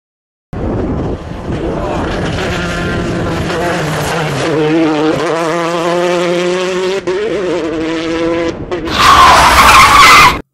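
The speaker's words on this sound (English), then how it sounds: "This car slows down from 20 meters per second, that's about 72 kilometers per hour, to a stop in 4 seconds." A car brakes hard from about 72 km/h to a stop, its loud tires skidding and squealing in sustained, wavering tones for several seconds before a brief louder burst near the end.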